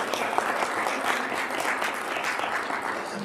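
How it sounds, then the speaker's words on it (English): An audience at a convention charity auction applauds the winning bidder, dense continuous clapping from a sizable crowd filling the room, steady and moderately loud throughout. "I'm always so curious about who we're clapping for"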